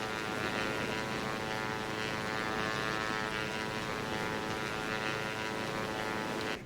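Steady propeller-engine drone of a light airplane in the X-Plane 11 flight simulator, flown in VR on snowy terrain, holding constant and loud throughout before cutting off abruptly at the very end.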